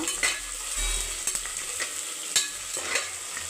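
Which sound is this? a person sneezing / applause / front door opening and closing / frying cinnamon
frying cinnamon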